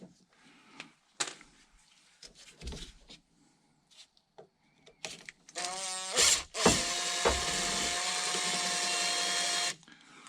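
A power tool breaks loose and drives out screws on the rear hatch of a 2001-2007 Toyota Sequoia, with a loud sustained whirring burst in the second half after scattered clicks and handling noises.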